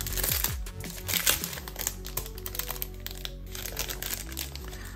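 Stickers being pulled out of a packet, close-up plastic crinkling and crackling in irregular bursts throughout, fairly quiet.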